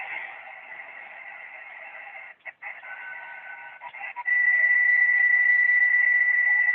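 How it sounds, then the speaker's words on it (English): A band of radio noise with a tone that settles into a steady, unbroken whine for the last few seconds, briefly interrupted by short dropouts earlier. "Now that's a continuous tone."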